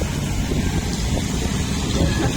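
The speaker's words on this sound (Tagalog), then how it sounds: "Mahangin dito." Strong wind buffets the microphone outdoors at Tutuban, a steady, loud low rumble that lasts the whole moment with a faint voice underneath.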